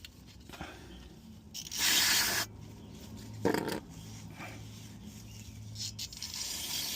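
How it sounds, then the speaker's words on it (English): Brake cleaner sprayed onto oily engine connectors of a 2005 Chrysler 300, two loud hissing aerosol bursts of about a second each, then quieter rubbing and handling noises. "you're just going to douse it down with brake cleaner"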